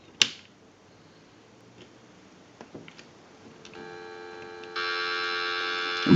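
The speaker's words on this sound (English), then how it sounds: "Go ahead and give you some dial tone." Steady dial tone from a TS22 lineman's buttset being tested on a phone line, starting after a few soft clicks and growing louder and fuller partway through, with a sharp click at the start and the end.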